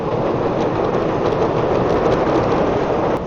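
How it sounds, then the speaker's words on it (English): A Chicago L elevated train rumbles past close by in a loud, steady roar of wheels and rails that fills the whole stretch without letting up. "that in Chicago is known as the L. What does L mean? It stands for elevated train."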